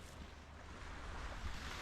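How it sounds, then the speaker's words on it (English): Gentle surf rolls onto a sandy beach in a steady, soft broadband wash, with faint wind noise and no voices over it. "Probably be able to hear the waves. Just a gentle roll."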